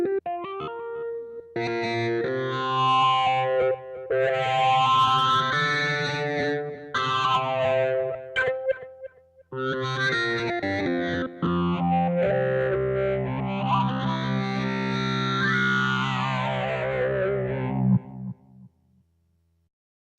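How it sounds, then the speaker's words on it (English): A distorted synthesizer plays gritty, buzzing sustained notes with a sweeping filter that rises and falls, loud and close, with a short pause midway and no talking. "Distortion is especially great if you play with the filter cut off."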